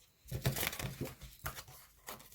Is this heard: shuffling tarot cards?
yes